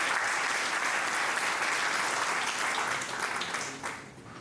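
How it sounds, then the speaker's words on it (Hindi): A crowd applauds at a North Western Railway retirement program in Jaipur. The clapping is steady and sustained, then slowly fades toward the end. "उन सब के लिए एक बार तालियां हो जाए।"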